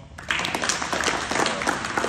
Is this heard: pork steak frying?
no